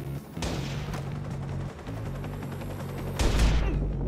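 Gunfire in the video game Watch Dogs, a dense rattling volley of rapid shots with sharp bursts near the start and a heavier blast toward the end, loud and continuous, no speech.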